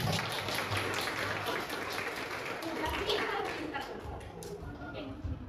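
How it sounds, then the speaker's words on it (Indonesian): Classroom of students clapping during a teacher training session, a short burst of scattered applause with taps and voices mixed in, fairly close and moderately loud. "sebelumnya tepuk tangan dulu buat kalian semuanya"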